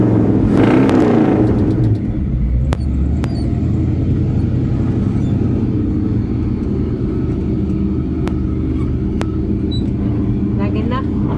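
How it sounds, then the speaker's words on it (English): A Chevrolet C10 squarebody pickup truck idling loudly with a deep steady rumble after an opening rev, close by at an outdoor car show in a park, with people talking over it. "You just push in the clutch and rev it up."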